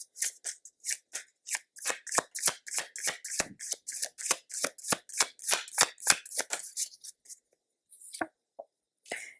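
Tarot cards are riffled and snapped down in a quick run of about twenty crisp, close slaps and flicks, followed by a short pause and a few softer placements.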